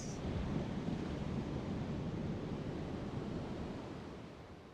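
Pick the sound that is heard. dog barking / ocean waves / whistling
ocean waves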